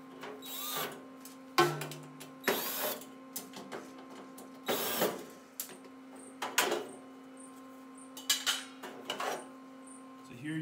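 Intermittent clicks, scrapes and metallic clatters from screws being taken out of the bed panel of a 60 watt Chinese laser engraver, short irregular bursts over a steady faint hum with pauses between.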